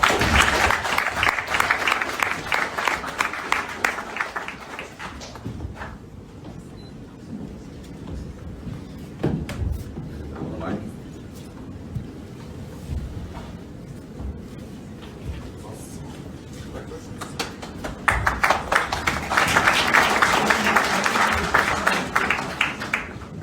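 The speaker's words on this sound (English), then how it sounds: "Round of applause, everybody, come on." A large audience at a roundtable panel event applauds in sustained loud clapping that thins to scattered claps and murmuring for a stretch, then swells again into full applause near the end.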